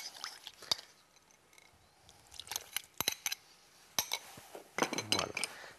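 Brioche dough ingredients being mixed in a bowl, with lukewarm milk and yeast added: scattered clinks and scrapes of a utensil against the bowl, some sharp taps, with soft squishy movement in between.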